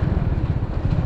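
A motorcycle engine idling while being parked near Kudle Beach in Gokarna: a close, loud, steady low putter with rapid uneven pulses and no speech.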